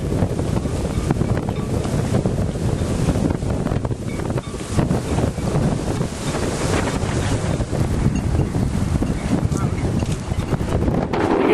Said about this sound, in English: Extremely windy down here